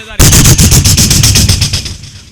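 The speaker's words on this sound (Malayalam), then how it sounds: "ശത്രുവിനെ അങ്ങനെ വെടിവെച്ച് ഇങ്ങനെ വെടിവെക്കുക" Gunfire from a shooting video game bursts in loud and close, a rapid string of about a dozen evenly spaced shots over two seconds, fading slightly toward the end.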